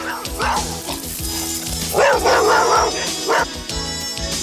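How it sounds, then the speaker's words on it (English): Dog barking in a domestic setting, several sharp barks in quick succession around the middle, mixed with whimpering yips over a steady background hiss. "The postman must be careful if there's a dog."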